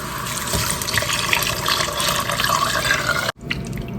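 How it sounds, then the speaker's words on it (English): White wine and beef broth pour steadily into a pot of onions, garlic and seasoning for French onion soup, a continuous close splashing trickle that cuts off abruptly near the end. "go ahead and add in your white wine and your beef broth"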